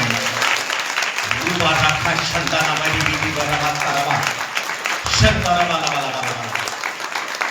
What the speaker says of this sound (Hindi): एक ताली बजाकर प्रभु के नाम से